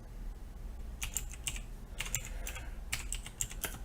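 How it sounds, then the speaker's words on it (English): Rapid clicking of computer keyboard keys in irregular bursts, close and fairly loud over a steady low background hum, during work on stepper motors with CircuitPython and Arduino. "Wow, typing is going to be fun today."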